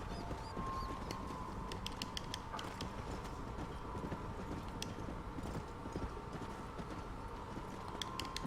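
Horse hooves clip-clopping in Red Dead Redemption, a steady rhythmic trot of sharp clicks that carries on throughout, heard over the low hum of the game's ambient sound.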